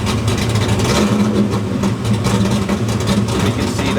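A small block Ford V8 in a Fox-body car runs loud and close, a steady low rumble with a mid-range growl that swells slightly as the throttle is pressed.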